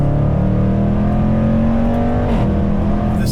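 A powerful supercharged V8 engine in a Jaguar F-Pace SVR drones steadily at high revs, its pitch holding then shifting slightly, loud and close with no talking.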